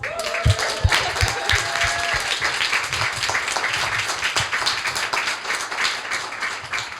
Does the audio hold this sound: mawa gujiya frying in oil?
no